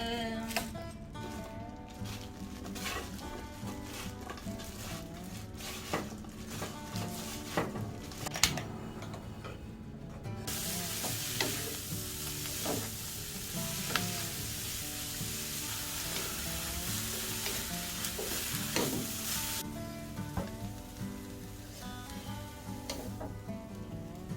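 Garlic sizzles and fries steadily in a pan of cooking oil and perilla oil, with occasional stirring clicks and scrapes, close and continuous, with little or no talk.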